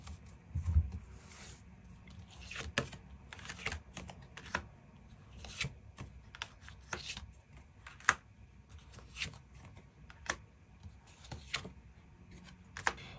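Tarot cards shuffled by hand to draw extra cards, giving a soft, steady run of riffling and sliding clicks with sharper snaps scattered throughout, close and quiet.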